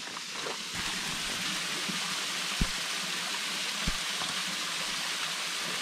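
A small trickling waterfall at Ricketts Glen State Park, Pennsylvania, a steady soft rush of flowing water with two brief low thumps partway through, no talking.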